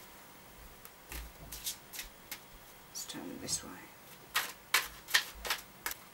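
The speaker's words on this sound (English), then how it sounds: "Just going to give this a quick shuffle." Soft papery riffles and snaps of tarot cards being shuffled nearby, irregular bursts, with a brief spoken remark partway through.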